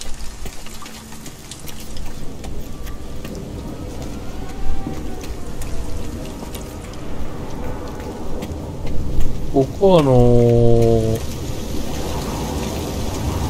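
Heavy storm rain in the video game No Man's Sky hisses steadily throughout, with a brief descending tonal chirp near the end and a voice speaking briefly over it.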